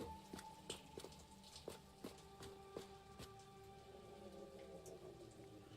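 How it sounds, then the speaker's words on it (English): Faint video game rain with scattered drops tapping at an irregular pace over a quiet, low hum. "Oh, it's raining."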